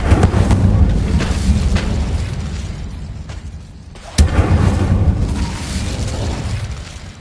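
An Incendio fire spell bursts in Hogwarts Legacy with a loud rumbling boom that fades, then a sharp second blast followed by a roaring, crackling tail.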